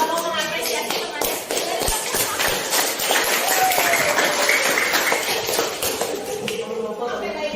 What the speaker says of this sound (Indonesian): Beri tepuk tangan yang sudah mengapresiasi.